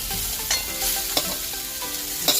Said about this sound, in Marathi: आता ह्याच तुपामध्ये आपण किसलेलं पपई टाकणार आहोत।